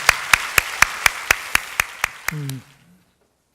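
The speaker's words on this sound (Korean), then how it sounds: "박수로 하나님께 영광을 드려드리겠습니다." Rhythmic unison clapping from a Korean church congregation during a Sunday worship service, about ten evenly spaced sharp claps. The clapping ends in a short low tone before silence.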